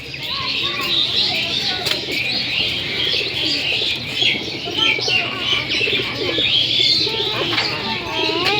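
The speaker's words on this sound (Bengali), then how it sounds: "ওই যে দেখেন আমাদের কবুতর।" Pigeons coo and chirp continuously nearby, with overlapping calls and occasional wing flaps on a pleasant afternoon, while voices are faintly heard in the background.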